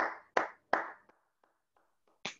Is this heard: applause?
yes